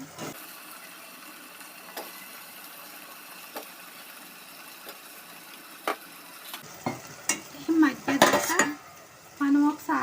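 A raw banana and prawn curry is stirred in a pan, with scattered metallic scrapes and clinks over a faint sizzle that turn into heavier, louder clattering near the end.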